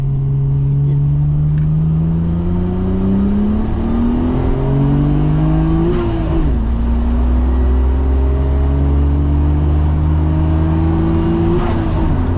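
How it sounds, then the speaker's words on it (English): A Nissan Skyline GT-R R33 with its RB26 engine accelerating hard up an interstate on-ramp, a loud, close, rising engine drone climbing through gear changes, with road and wind noise inside the cabin. "the on-ramp is always the perfect place to give it a little gas"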